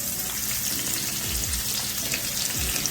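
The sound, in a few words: onion frying in a pot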